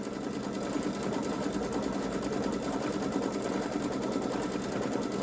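A Baby Lock Solaris Vision embroidery machine stitches a ghost design onto a boys' t-shirt with a steady, rapid mechanical whirr and needle chatter, continuous and close throughout.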